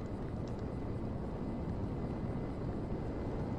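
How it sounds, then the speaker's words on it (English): Jet aircraft roaring on takeoff in the video game GTA V, a laser jet; a steady, dense engine rumble fills the whole stretch at constant loudness with no voices. "Alright, I'm taking off in a laser jet."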